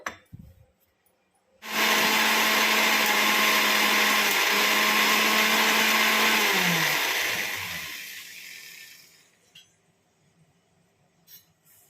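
A mixer grinder blending a spice paste with a little water starts abruptly and whirs loudly for several seconds with a steady motor hum, then winds down and stops, followed by a few light clinks.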